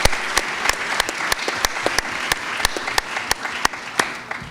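An audience at the Brooklyn Book Festival in 2015 applauds the event's tenth anniversary with steady, dense clapping from a crowd, sharp individual claps standing out, fairly loud and with no talk over it.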